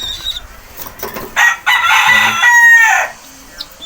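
A rooster crows loudly and close, a single drawn-out cock-a-doodle-doo with some clucking and faint background noise.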